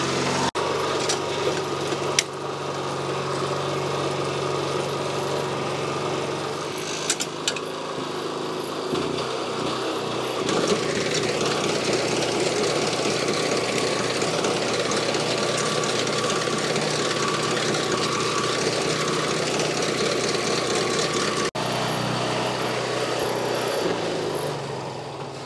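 A lawn scarifier engine runs steadily while it dethatches grass, giving a continuous mechanical drone with rough, knocking texture and small shifts in load as the machine works the ground.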